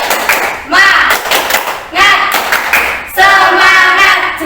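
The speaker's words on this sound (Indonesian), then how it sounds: "Tepuk 3, tepuk 2, tepuk semangat." During a school group-guidance session, a group performs a rhythmic spirit clap: bursts of hand claps and thumps in short patterned phrases. Chanting voices call out in time between and over the claps.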